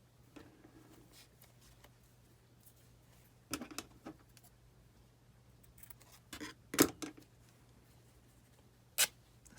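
Fabric scraps are snipped and then torn by hand, with a few short, sharp tearing bursts spaced seconds apart against a quiet room with a low hum.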